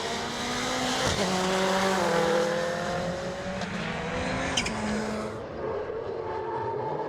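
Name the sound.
rallycross race cars braking and cornering at Lydden Hill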